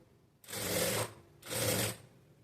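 Sewing machine stitching the hook side of a blouse in two steady bursts of about half a second each, close and alone with a brief quiet gap between them.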